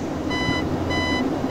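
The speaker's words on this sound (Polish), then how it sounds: "teraz jest sygnał radiolatarni" Steady radio navigation beacon tone in a Boeing 247 D flight simulator, a high pure whine that fades in and out in pulses over a low cockpit engine drone.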